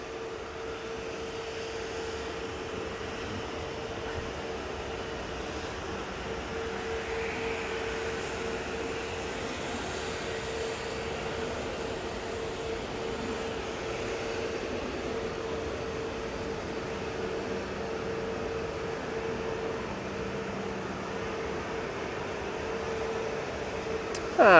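An EasyJet airliner taxis at Manchester Airport on its way to depart for Alicante, a steady distant jet engine drone with a faint whine, holding evenly throughout with no voices.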